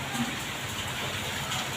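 Dense, steady hiss of heavy rain pours down continuously, a broad wash of noise with no gaps.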